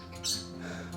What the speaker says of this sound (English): the one you hear currently screaming is Indy, my parrotlet